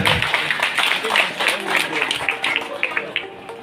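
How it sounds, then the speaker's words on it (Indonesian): Indonesian audience applauding at a government dialogue with poultry farmers in Magetan, a dense crackle of many hands clapping steadily throughout, with brief voices mixed in. "Tepuk tangan dulu, luar biasa."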